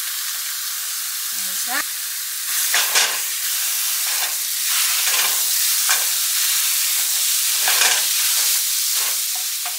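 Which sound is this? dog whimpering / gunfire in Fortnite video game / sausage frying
sausage frying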